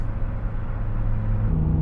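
A manual BMW E60 M5 engine runs loud and close with a deep steady rumble, climbing slightly and holding a firmer tone near the end as the revs rise.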